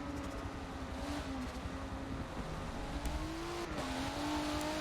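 Race car engines in an esports sim racing game at Atlanta, steady high revving drone with shifting pitch as cars accelerate and brake, faint tire noise, no talk over it.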